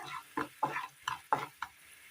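Roasting spice powder, including turmeric, is stirred in a pan in a series of short, close scraping strokes spaced across a quiet background.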